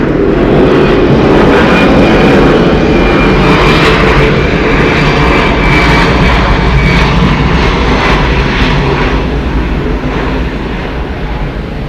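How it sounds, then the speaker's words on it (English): A 30-year-old Delta Airlines Airbus A320 landing at Atlanta Hartsfield-Jackson, loud, close jet engine roar filling the whole stretch with broad rushing noise, easing slightly toward the end. "Landing, Delta Airlines Flight 967 coming in from Washington. It's a 1 hour and 16-minute fly on an Airbus A320"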